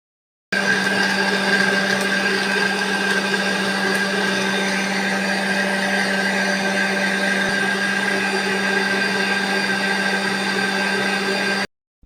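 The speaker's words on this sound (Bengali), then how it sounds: "তরমুজ থেকে জুসগুলো ব্লেন্ড করা হয়ে গেছে" Electric blender whirring watermelon into juice, a loud, steady drone close by that starts abruptly, holds evenly for about eleven seconds, then cuts off.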